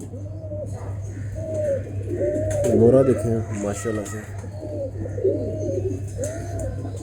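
Pigeons coo repeatedly in rolling phrases close by, their calls running steadily over a low constant hum while someone talks over them.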